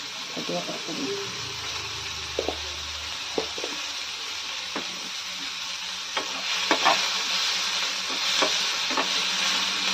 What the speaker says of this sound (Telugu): ఇలా వేగుతూ ఉండగా ఇందులోకి ఒక 1/2 టీ స్పూన్ అంత జీలకర్ర వేసుకోవాలి.